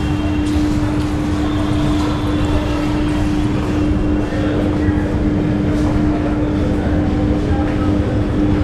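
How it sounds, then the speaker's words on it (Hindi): A passenger train with new LHB coaches departs Lakhimpur railway station on the Gorakhpur–Mailani Express run, a loud, steady rolling rumble with a sustained tonal hum throughout. "लखीमपुर से ट्रेन निकलती हुई अपनी,"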